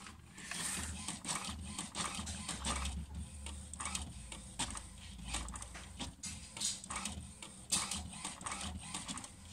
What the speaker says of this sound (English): Yeah, these printers are slow.